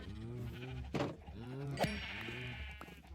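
Several close, wavering sheep bleats in the Minecraft video game follow one another over about three seconds, with a couple of short clicks and game noises between them.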